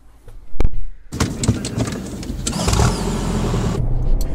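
A DS 3 Performance, 2017 model with a 1.6 litre turbocharged four-cylinder petrol engine, pulls away hard; a brief thump gives way to a sustained, rising engine roar heard from inside the car, loud and steady to the end.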